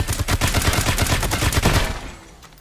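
Sustained rapid automatic gunfire in the video game Dysterra, loud and close, a dense rattling volley of shots for about two seconds that then cuts off into quiet.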